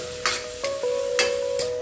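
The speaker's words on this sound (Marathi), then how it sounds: "चलो आता छान लालसर कांदा तळून घ्यायचा आहे" Sliced onion frying in a pan until reddish-brown, with a steady sizzle under a faint hum, broken by several brief scraping bursts as the spatula stirs.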